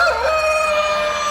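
An Orpington rooster at a poultry show crows up close, a bright, drawn-out call with a wavering tone that holds steady, standing alone without any talk.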